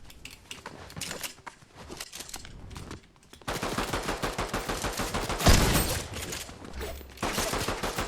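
Gunfire in Fortnite, sustained rapid bursts of automatic fire close and loud, growing denser midway with a heavy impact, then continuing in quick rhythmic volleys.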